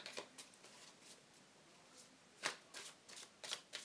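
Symbolon astrology cards are shuffled in a quiet room, giving a series of soft riffling and flicking bursts that grow louder and denser toward the end, with no voices.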